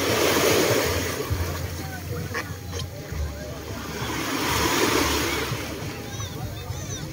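A small wooden outrigger boat rocks at sea as the swells grow, with a steady rushing wash of surf and wind roaring across the microphone and a low continuous rumble underneath.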